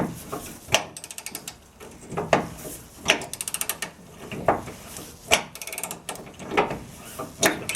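Ratcheting wrench and socket tightening a bolt on a Stage 3 rear frame kit, with repeated clicking bursts of ratchet teeth and metallic clanks at a close, steady working pace.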